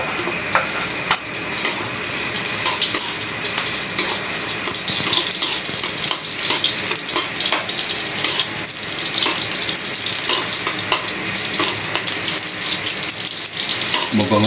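Garlic sautéing in a pan makes a steady, close hiss and crackle that runs unbroken throughout, with no talking over it.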